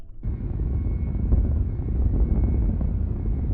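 Several propeller engines on a rescue plane in Kerbal Space Program drone loudly and steadily after a sudden start, a continuous rumbling roar with no talking.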